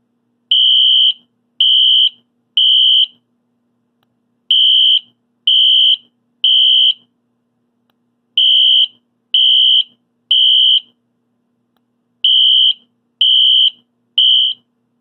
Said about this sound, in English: These Wheelock signals right here will really bring pain and suffering to your fire alarm system.